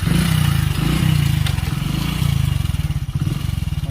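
A motorcycle rides along a mountain road. Its engine putters close and loud in a steady, pulsing rhythm, with a brief dip in the middle.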